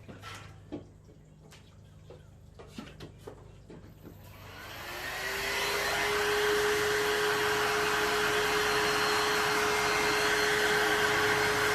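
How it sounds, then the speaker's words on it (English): A hair dryer switches on after a few seconds of quiet handling noises and blows steadily and loudly over acrylic paint on a truck and tree painting, with a constant whirring hum that holds to the end. "I'm going to blow dry this just so that way I can see how it looks"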